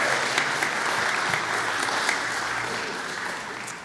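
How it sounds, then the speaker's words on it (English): Gathered audience at a spiritual community session applauding, a loud, thick, continuous wash of clapping from a large group that holds steady then eases slightly toward the end. "I would like you to give yourself a round of applause."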